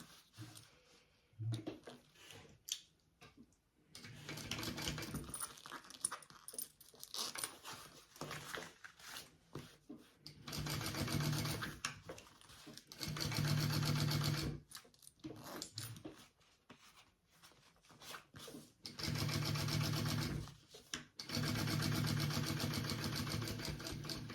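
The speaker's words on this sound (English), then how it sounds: "We are going to top stitch along that bottom seam." A sewing machine top-stitches along the bottom seam of a fabric sling in several bursts of rapid whirring and clatter, separated by short quiet pauses.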